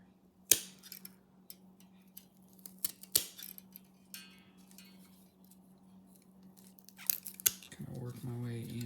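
Dahlia garden tubers being cut apart with a few sharp snips and cracks spaced a few seconds apart, close and fairly quiet, with a steady low hum beneath.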